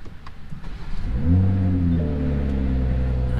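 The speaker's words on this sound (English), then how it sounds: "Alright, so we're gonna start up the Supra." A 2020 Toyota Supra Launch Edition cranks and fires up close, its engine catching with a rising rev and then settling into a steady, deep idle.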